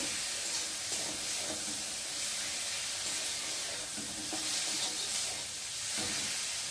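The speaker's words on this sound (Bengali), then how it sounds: "ভালো করে মশলাটা কষিয়ে নেব।" Spice masala for a Maggi noodle dish fries in a pan, a steady close hiss and sizzle with faint scraping of stirring throughout, no voices.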